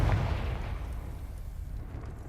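A Confringo blasting curse goes off in Hogwarts Legacy: a loud, close, deep explosive burst at the start that rumbles on and slowly fades over about two seconds.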